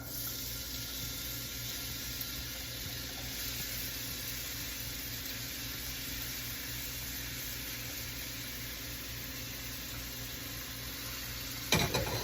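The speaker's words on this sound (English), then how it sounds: "It is time for our onions and peppers to go in." Onions and peppers fry in hot roasted garlic oil with a steady, even sizzle that holds throughout, broken by a brief clatter at the very end.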